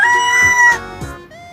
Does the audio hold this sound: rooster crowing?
yes